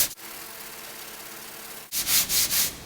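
Sanding body filler by hand with 80 grit sandpaper during an auto body repair, a steady close rasping scrape running for almost two seconds, then brighter, harsher back-and-forth strokes in quick bursts.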